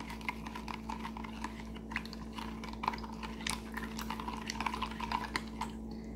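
Homemade liquid soap made with chlorine-free bleach and vinegar, stirred with a spoon: soft repeated clinks and wet scraping against the container over a steady low hum, quiet and close, with no talk.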